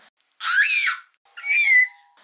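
An eight-month-old baby lets out two high-pitched, squealing screams, each about half a second long, separated by a short pause in an otherwise quiet room.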